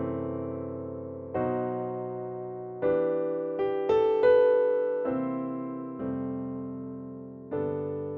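Jazz piano plays a reharmonized chord progression that includes a borrowed chord and a secondary dominant. About seven sustained chords are struck one after another and left to ring and decay, heard clearly and alone.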